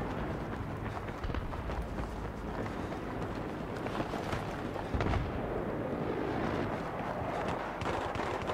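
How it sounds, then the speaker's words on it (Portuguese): Gunfire rages through a Battlefield 3 match on PS3, a dense, continuous wash of shots and booming blasts with no letup, loud and close, thickening into heavier thuds partway through. "Ouvo tiros"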